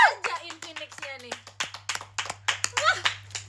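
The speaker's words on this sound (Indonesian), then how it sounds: "Semua tepuk tangan." Quick claps from an audience patter in short bursts under an ongoing voice, fairly close and moderate in level, over a steady low hum.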